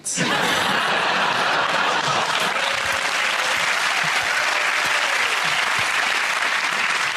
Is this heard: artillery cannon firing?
no